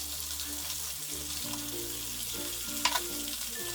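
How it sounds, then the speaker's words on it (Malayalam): Chicken pieces for broasted chicken deep-frying in hot oil, giving a continuous soft sizzle and bubbling, with a low steady hum underneath and one brief sharper crackle near the end. "നമുക്ക് ഈ ചിക്കൻ പീസസ് ഇതിലേക്ക് ഇട്ടിട്ട് ഫ്രൈ ചെയ്തെടുക്കാം."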